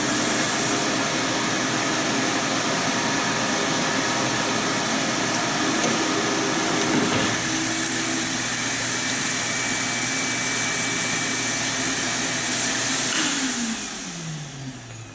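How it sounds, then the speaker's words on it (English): A shop vacuum runs loudly and steadily near the workbench of a box build, a broad roaring drone that shifts in pitch midway and begins to wind down at the end. "Turn on the vacuum."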